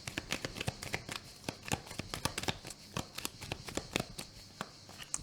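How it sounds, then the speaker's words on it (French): Tarot cards shuffled and drawn by hand, a quick irregular run of crisp flicks and riffles, close and quiet with no one talking over them. "on va reprendre encore au moins une ou deux cartes"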